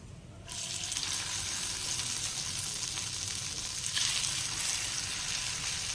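Farali cutlets sizzling in hot oil in a pan, a steady loud crackling fry that starts abruptly and continues without a break, with no talking.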